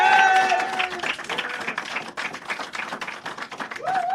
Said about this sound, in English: I just want everybody to give a big round of applause.